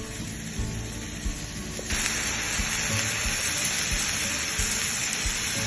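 Ground beef burger patty sizzling steadily in a dry Tefal grill pan with no oil or butter, the frying hiss jumping louder partway through and continuing evenly.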